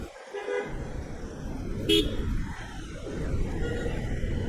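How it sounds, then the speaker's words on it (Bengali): A microbus honks from behind on a busy Dhaka city road, one short horn toot over a motorbike rider's engine and wind rumble with surrounding traffic noise; a voice is briefly heard. "আবার পেছন থেকে এক মাইক্রোবাস এসে হর্ন দিতেছে"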